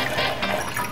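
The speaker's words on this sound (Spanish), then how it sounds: "vamos a poner un cuarto de la botella de agua" Water poured through a funnel into a glass bottle, a short continuous gurgling splash with a bright, hollow fill tone.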